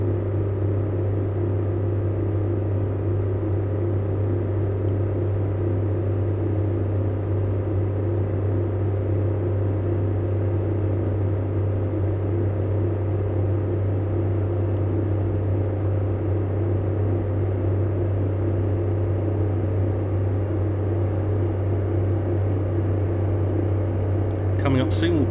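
A Class 143 diesel train engine under power in Train Simulator 2018, climbing an upward gradient, a steady low droning hum and rumble that runs unbroken throughout, with someone talking over it and a brief click near the end.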